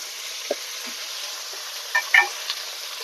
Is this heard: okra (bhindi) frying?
yes